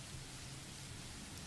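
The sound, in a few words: heavy rain falling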